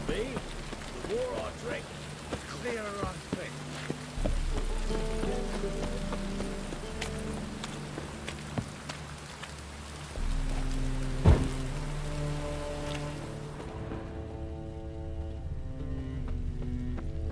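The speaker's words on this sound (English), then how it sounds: "Looks like rain." Steady rain patters on a surface throughout, with music and occasional talking layered over it, plus a sharp impact partway through, from the video game The Witcher 3 in the Isles of Skellige.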